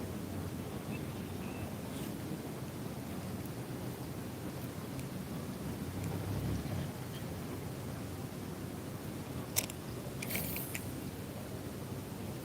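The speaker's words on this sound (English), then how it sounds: "I have to say there, Dylan, I love fishing in the rain." Rain falls steadily on a lake while someone is fishing at Sportsman's Lake, making a continuous broadband hiss that stays even throughout, with a few sharp clicks near the end.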